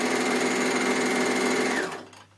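A Bernina L450 overlocker stitches a rolled hem along a scarf edge, its fast steady motor hum and needle chatter running close and continuous before slowing and stopping near the end.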